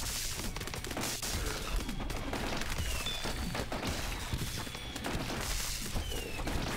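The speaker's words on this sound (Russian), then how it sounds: "Тише, фейерверки только летят тут." Dense crackling bursts and pops from fireworks in the game Earn to Die Rogue, with thin whistling streaks overhead, a steady loud barrage throughout.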